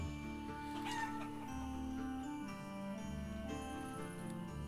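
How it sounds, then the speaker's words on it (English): Chickens clucking in the village-building game Life is Feudal: Forest Village, soft repeated calls over a steady bed of game music and ambience, with no talk. "Yay, chickens!"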